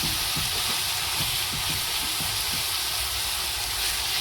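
Mutton pieces fry with ginger-garlic paste in a pan for mutton kachori, giving a steady, dense hiss that holds evenly throughout with no talking.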